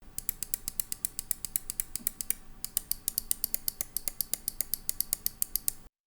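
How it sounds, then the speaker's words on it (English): Buttons on a Glorious Model O gaming mouse click in a fast, steady run of sharp, close-up ticks, about six or seven per second, with a brief pause partway through and no talking. "left and right click feel snappy and responsive"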